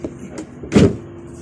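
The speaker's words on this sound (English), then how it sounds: "We'll just press the other remote while we've got a chance. Boot goes up." Mazda car boot released by remote key: a faint click, then a short close mechanical thunk and whirr as the boot lifts, alone.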